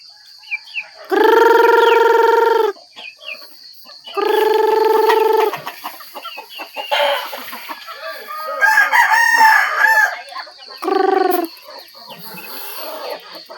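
A rooster crows loudly several times with pauses between, while hens cluck softly in the background; no talking.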